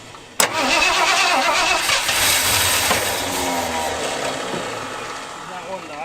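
An old plow truck engine cranks and fires with a sudden bang, then runs roughly and unevenly, surging and sagging as it struggles to hold an idle, loud and close.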